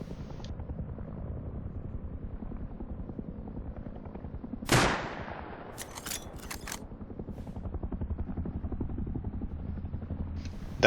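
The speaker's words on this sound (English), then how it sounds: "Now heli should be coming over soon." Attack helicopter in the video game Rust approaches, a steady rotor drone under a sharp burst of gunfire from an AK, followed by a few more scattered shots as the rumble builds.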